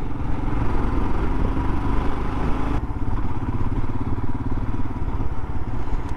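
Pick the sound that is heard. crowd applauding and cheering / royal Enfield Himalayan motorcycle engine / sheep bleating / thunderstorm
royal Enfield Himalayan motorcycle engine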